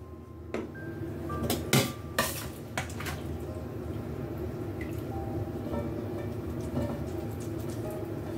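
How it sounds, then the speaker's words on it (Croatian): Beans and onions are layered by hand into a baking dish for a Serbian baked bean prebranac. Sharp clinks of a utensil against the dish come first, then softer scraping and handling sounds continue throughout at close range, with no talking. "Zatim ću opet red pasulja, pa red luka i tako sve dok ne potrošim pasulj i luk."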